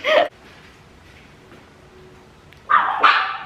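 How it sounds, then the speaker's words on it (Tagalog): Pet dogs in a home bark in two loud, close bursts, a short yap at the start and a longer run of barking after a quiet pause. "Medyo maingay yung ating mga aso."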